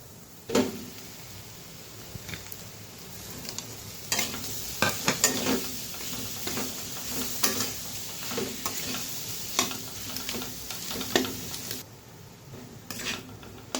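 A spoon stirs and scrapes through a sizzling pan of boiled mashed potato filling with salt for capsicum chops, with repeated clanks of metal against the pan over a soft, steady frying hiss.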